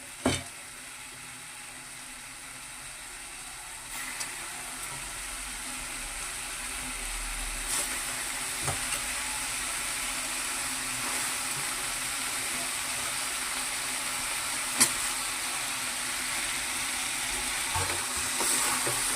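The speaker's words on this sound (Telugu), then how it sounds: "ఈ వంకాయ ముక్కలకి ఉప్పు కారం అంతా బాగా పట్టేలాగా ఒకసారి కలిపేసుకుందామండి" Brinjal and mango pieces tossed with salt and chili powder in a pan for a brinjal-mango tamarind-style stew, giving a steady soft sizzle with faint occasional scrapes of a spoon, alone and with no talking.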